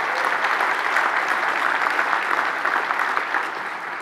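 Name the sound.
audience applause at a keynote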